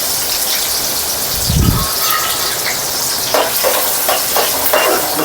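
Sliced large onions hitting hot oil in a pan for a village-style fish curry, with a loud, continuous sizzle and crackle and a few stirring scrapes toward the end.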